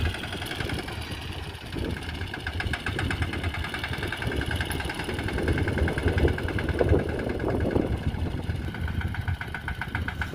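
A farm tractor engine runs at a steady, knocking idle nearby, a continuous mid-pitched rumble with faint vibration and no talk.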